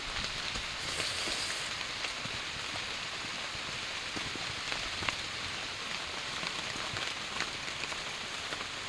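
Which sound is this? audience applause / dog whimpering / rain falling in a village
rain falling in a village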